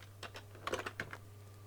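A handful of computer keyboard keystrokes typing a short command for an RCA 1802 test setup, quiet clicks in an irregular burst over a steady electrical hum.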